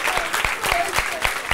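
A small audience in a Dutch television studio gives applause, a close, fairly loud patter of clapping with several sharper claps standing out, continuous and without speech.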